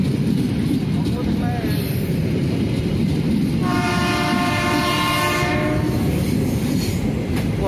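An Indonesian passenger train rumbles past close by with a steady, loud roar, and a horn sounds partway through before the rolling noise continues.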